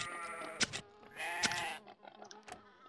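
Sheep bleat in the strategy game Cultures, two wavering, drawn-out calls with a short, fainter bleat after them, clear and close against a quiet game background with no talking.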